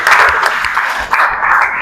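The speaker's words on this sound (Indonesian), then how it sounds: "Tepuk tangan untuk Daniel dulu" Applause from a classroom audience for a student named Daniel, a dense steady patter of many hands clapping that carries on throughout with a brief dip in the middle.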